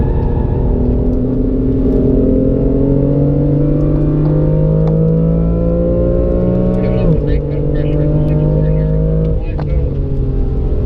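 BMW M3 on a race track at BMW Performance Center West, its engine droning loud and steady with rising pitch, dipping sharply around the seven-second mark as the driver lifts off the throttle, then pulling back on, with talk over it.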